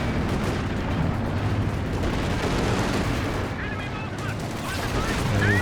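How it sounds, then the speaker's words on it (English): Stuka rocket barrage from Company of Heroes 2 walks across positions, a dense continuous rumble of overlapping blasts and crackling impacts with battle noise throughout. "solid walking Stuka shots"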